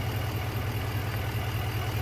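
A 2024 GMC Sierra 2500 HD Denali Ultimate's 6.6-liter turbocharged V8 diesel idles outdoors in a steady, low rumbling drone, with constant wind noise hissing over it.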